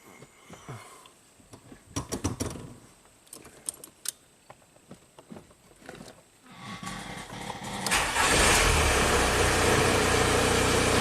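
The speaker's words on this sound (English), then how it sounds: "And we can even start the car here." Keys jingle and click near the ignition of a Volkswagen car from Texas, then the engine cranks and catches, rising into a loud, steady idle rumble that fills the rest of the clip.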